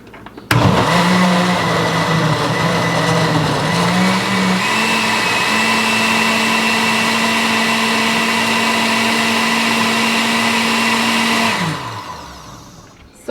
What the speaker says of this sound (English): now I am gonna start the blending